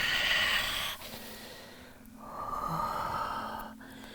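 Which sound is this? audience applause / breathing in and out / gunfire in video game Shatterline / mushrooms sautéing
breathing in and out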